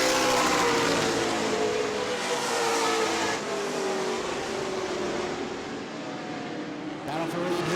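A race car roars past on the New Smyrna oval, loud and close, its engine note sliding downward as it goes by over a steady wash of other cars' engine noise.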